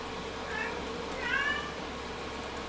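A cat meows twice, the first short cry followed by a longer, louder drawn-out meow, heard faintly over a quiet room background.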